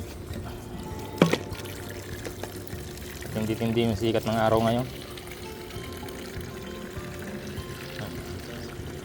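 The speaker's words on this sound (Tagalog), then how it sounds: "Lagyan na natin ito ng tubig" Water runs from a tap into a sprayer tank being filled for spraying insecticide on okra plants, a steady gush that swells for a few seconds amid outdoor background noise while someone talks over it.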